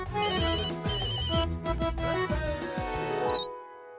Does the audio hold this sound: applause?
no